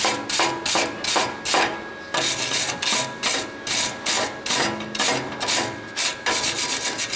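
A handheld wire brush scrubs slag off a fresh flux core weld on a Ford Ranger exhaust, with rapid, loud back-and-forth scratching strokes in a steady rhythm and brief pauses between bursts.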